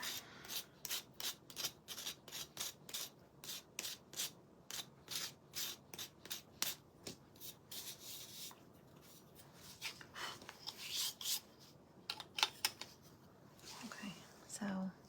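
A collar is scuffed by hand with quick, soft rubbing strokes in short rhythmic bursts, close and quiet, while someone speaks in a low voice.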